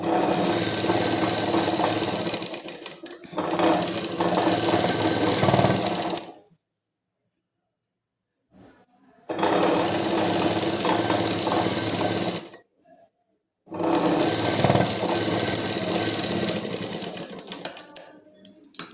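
A sewing machine stitching a collared kurti runs in three loud, rapid bursts of whirring stitches, each several seconds long and separated by quiet pauses.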